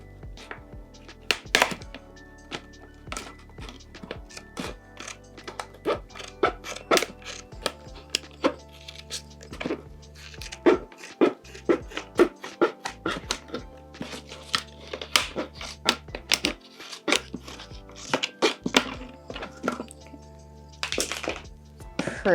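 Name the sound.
cutting the top off a plastic plant pot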